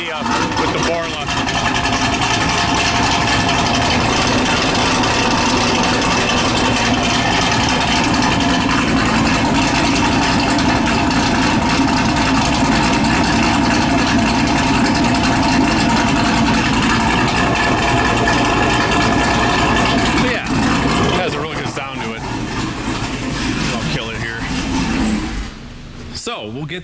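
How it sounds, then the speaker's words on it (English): A Chevrolet Camaro SS V8 with a Nickey Stage 2 setup and Borla exhaust idles loudly and steadily, a deep continuous rumble close by that dips briefly near the end. "why don't I just fire this thing up?"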